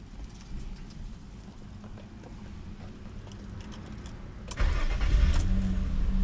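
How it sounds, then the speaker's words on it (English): A 2001 Nissan Maxima's 3.0L VQ30DE V6, already warmed up after an earlier start, gets a brief starter crank and catches almost at once, the idle firing up loud and close after a short whirring crank. "I'm going to show you how short the starter cranking time is."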